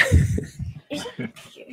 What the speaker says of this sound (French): Je tousse beaucoup